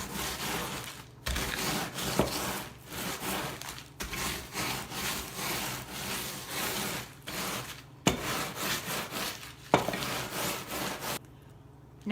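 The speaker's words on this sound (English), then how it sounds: "Then we're going to take our rolling pin. We're going to roll over the graham crackers to make crumbs." Rolling pin crushing graham crackers inside a sealed Ziploc bag, a series of rough crunching, rasping strokes in back-and-forth bursts with brief pauses between them, close and moderately loud.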